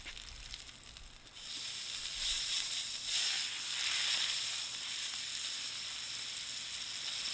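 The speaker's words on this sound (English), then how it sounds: "Searing with beef tallow has become my new favorite way to sear steaks" Prime picanha steak sears in beef tallow on a Ninja Woodfire Grill, producing a loud, steady, close sizzle that swells and holds for several seconds with no voices.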